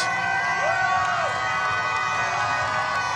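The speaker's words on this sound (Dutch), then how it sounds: "Het applaus is voor Jemima uit Londen." Crowd noise along the finish of the NN Marathon Rotterdam for the last runner, a continuous cheering wash with shouts and a rising whoop, steady and fairly close.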